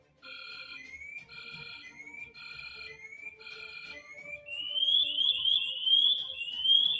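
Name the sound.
LUNAR onboard motion sensor pre-alarm and full alarm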